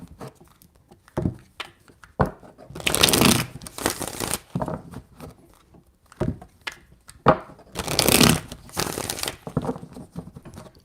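Tarot cards shuffled by hand, close and crisp, in bursts of riffling flutter with soft taps and slides between them and two longer shuffles in the middle.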